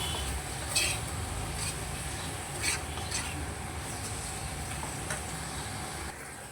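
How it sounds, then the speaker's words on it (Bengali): Spice paste with chilli powder and green chilli paste sautéing in a pan, a steady close sizzle with scraping stirs and a few sharp clicks of a utensil against the pan, no talking. "দিয়ে ভালো করে মশলাটাকে আমি কষিয়ে নেব।"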